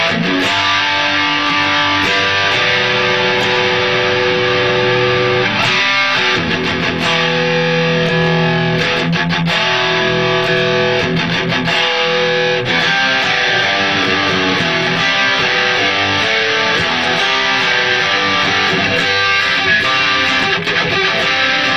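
A heavily overdriven electric guitar plays continuously through a loud, saturated Traynor YCS 50H amp with boost engaged, chugging chords and riffs with thick gain.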